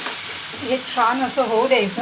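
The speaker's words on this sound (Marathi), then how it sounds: "मस्त तडतडली आहे फोडणी" Whole spices crackle and sizzle in hot oil for a chicken liver masala tempering, a steady close fry hiss with someone speaking over it.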